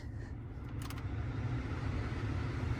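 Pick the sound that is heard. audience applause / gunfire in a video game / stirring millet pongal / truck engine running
truck engine running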